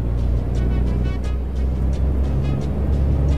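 Detroit Diesel Series 60 engine in a Volvo VNL 2018 truck in American Truck Simulator, a steady, loud low diesel drone with a rhythmic throb, running continuously with no talk.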